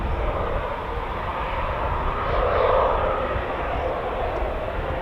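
A Eurofighter Typhoon FGR4 jet at RAF Coningsby roars steadily in the distance, a broad rumbling drone that swells slightly midway as the aircraft passes.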